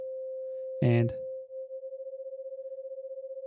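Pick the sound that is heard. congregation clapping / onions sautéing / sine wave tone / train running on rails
sine wave tone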